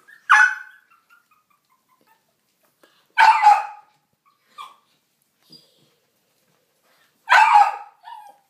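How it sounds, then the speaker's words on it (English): A dog barks in three short, loud bursts spaced a few seconds apart, with a faint whimper or yip between them and no talking. "Archie, no barking."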